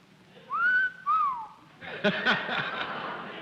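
A mild two-note wolf whistle rises and falls twice in quick succession, close and clear, followed by brief chuckling and laughter from a studio audience.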